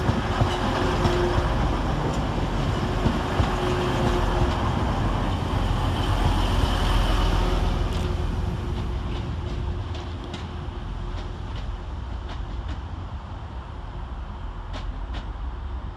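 Low rumbling of passenger trains moving through Stockport railway station, a continuous rolling drone with faint metallic clanks and squeals, steady and fairly distant.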